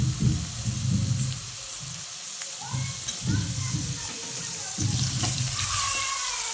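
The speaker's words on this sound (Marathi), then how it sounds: "आता टमाटा थोडासा तेलामध्ये शिजवून घेते मग." Tomato cooking in hot oil in a home kitchen pan, a soft continuous sizzle running steadily under the low hum of the room, with brief stirring noises now and then.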